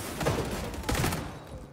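Rapid assault rifle fire in the shooter game XDefiant rattles in a dense continuous burst with two stronger surges, loud and close, with no talking.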